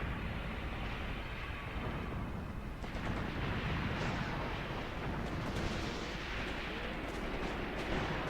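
Gunfire and artillery rumble through the World War II strategy game Graviteam Tactics near Kharkov in 1942, a dense, continuous wash of distant booms and crackling shots with no clear pauses.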